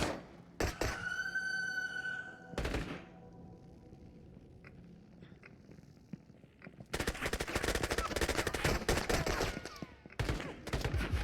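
Video game gunfire in Into The Radius: a few loud single shots early, then a long dense burst of rapid automatic fire close by, with a short pause before more shots.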